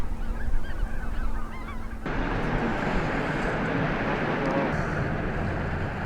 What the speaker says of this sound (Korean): 도요와 백로 같은 새들도 어렵지 않게 만날 수 있다